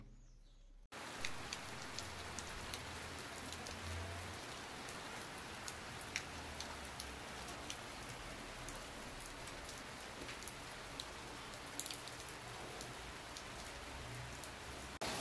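Rain falls steadily and evenly on a home's surroundings, a dense hiss with scattered drip taps that starts abruptly after a brief quiet moment and carries on alone, with a faint bird call now and then.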